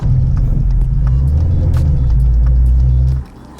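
A BMW Z3 roadster on 18-inch Z4 wheels drives a rough, bumpy road, its engine and tyre rumble loud and steady from inside the cabin before dropping away abruptly near the end.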